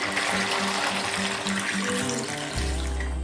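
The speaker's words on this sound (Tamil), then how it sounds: "அந்த அளவுக்கு இதில் தண்ணி சேர்த்துக்கலாம்" Water pours steadily into a pot with a continuous splashing rush, ending in a low gurgling fill.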